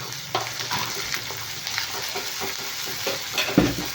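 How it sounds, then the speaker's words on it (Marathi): Chopped onion frying in a pan for a spicy vada dish, a steady close sizzle with occasional stirring scrapes and spoon clinks, no talking. "आता हा आपण कांदा पण छानसा गोल्डन ब्राऊन करून घेऊया"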